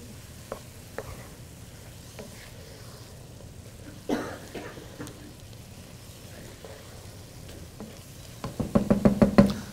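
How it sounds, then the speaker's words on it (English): Ground beef for sloppy joes fries quietly in a pan while a utensil stirs it, giving a soft sizzle with scattered scrapes and one sharp knock, then a burst of rapid, louder clatter at the end. "So you add your beef. You give that a stir."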